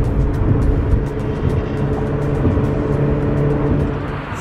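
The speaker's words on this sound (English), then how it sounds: "I have been driving for a couple hours" Steady car engine and road noise from inside a vehicle on a road trip to Louisville, a continuous low rumble with no talk.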